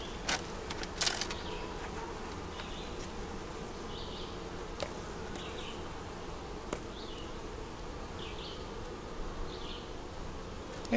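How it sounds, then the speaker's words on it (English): Bees trapped at the end of a screen-wire hive screen buzz steadily as they try to get out, a faint continuous hum with a few slightly louder flutters. "Got a couple of bees in the end of this."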